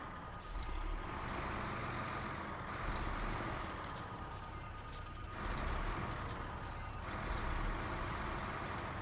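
Repeated reversing beeps from a truck in the off-road driving game Snowrunner, set in North Carolina, sounding in regular bursts over a steady loud engine rumble with no talk.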